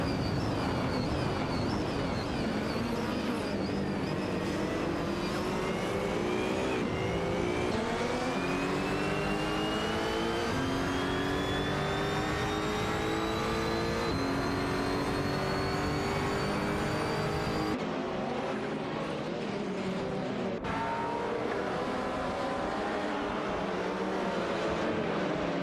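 Video game race cars, including an Aston Martin Vantage GT4, roar around a track with layered rising engine whines shifting through gears, continuous and loud with no voices.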